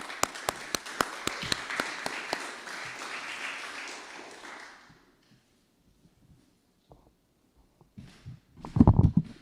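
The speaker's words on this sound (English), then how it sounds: "So please, everybody, a round of applause." Conference audience at an AI agents hackathon kickoff applauding to welcome the next speaker, a dense burst of clapping with a few sharp claps on top that fades out over about five seconds, then quiet handling noises and a voice starting.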